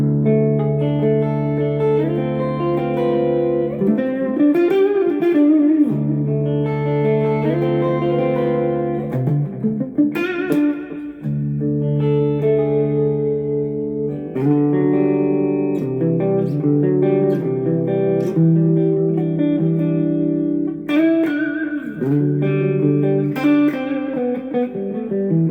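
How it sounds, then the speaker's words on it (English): Electric guitar played through a Boss Katana Mini X practice amp with delay and reverb, sustained chords and picked notes ringing out with echoing tails, loud and close with no talking. "Let's put some delay and reverb on there."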